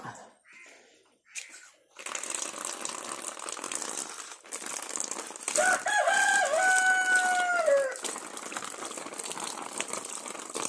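Chickens at a home in the morning, close by, with a rooster letting out one loud, clear crow midway. Softer clucking and rustling surround it, and there are a few brief faint sounds near the start.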